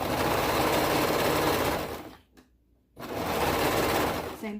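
A serger sewing machine stitching fabric for a toddler hoodie, a fast loud mechanical whir that runs for about two seconds, stops briefly, then starts again.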